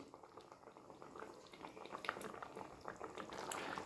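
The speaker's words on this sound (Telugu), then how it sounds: "కొంచెం ఉడకనిద్దామండి." A pot of curry with cucumber, egg and tomato bubbles at a steady boil, a soft continuous burble of popping bubbles and light liquid splashes heard close and alone.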